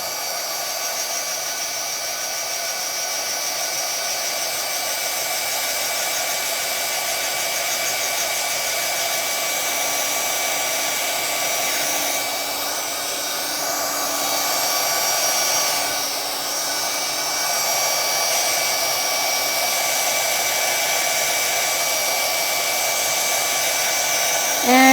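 A heat tool blowing steadily behind a handmade card to flatten warped cardstock, a loud continuous whooshing drone with a faint whine that barely shifts for the whole stretch, close up and without talk.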